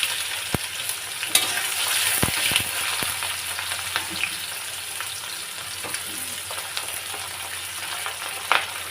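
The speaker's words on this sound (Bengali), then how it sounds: "শুকনো লঙ্কা আর জিরে দিলাম, তারপর দিলাম পেঁয়াজ" Sliced onion hitting hot oil seasoned with dried red chillies and cumin, a steady close hiss of frying throughout, broken by a few clinks and scrapes of a stirring spoon.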